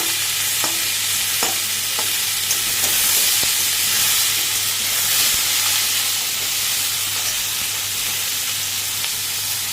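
Taro pieces (mukhi kochu) sizzle loudly in a pan while being stirred, with a constant frying hiss punctuated by sharp utensil taps and scrapes.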